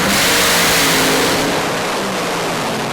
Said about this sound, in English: a big advantage for John Spuffard off the start line and all the way through the finish line with a nice, clean and strong run